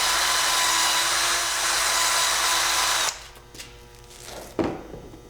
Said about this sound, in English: have to wire wheel it clean